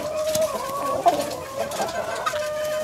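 A village hen clucks while being held for artificial insemination with green junglefowl semen, soft irregular clucks and a few sharper squawks close by, with faint handling noise and a low steady hum underneath.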